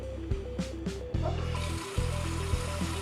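Water runs into a cooking pot being filled for macaroni and cheese, a steady rushing gush with a gradually shifting tone, accompanied by a few clanks and a thrumming, looping background music.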